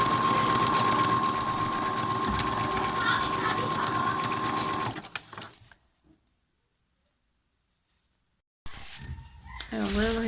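A sewing machine runs a zigzag stitch in one steady, whirring burst for about five seconds, then stops; after a silent pause, a voice and faint background noise come in.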